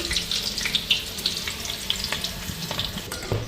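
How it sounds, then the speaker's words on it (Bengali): Pieces of meat liver being rinsed under a running kitchen tap, a steady close splashing and trickling of water with faint clinks, continuing throughout with no speech. "মাংস লিবারগুলো এই যখন ধুয়ে নিছি"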